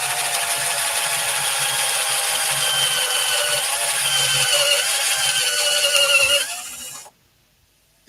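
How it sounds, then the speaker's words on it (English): A power drill runs steadily, boring into a lamp base, with a continuous high whine and grinding that lasts about seven seconds before cutting off abruptly into silence. "Put the drill on drill."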